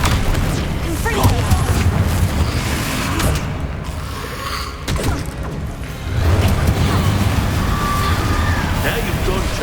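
Confringo blasting spells explode in the video game Hogwarts Legacy, giving dense, rumbling booms and crashes that run continuously over loud game noise, with a brief lull midway.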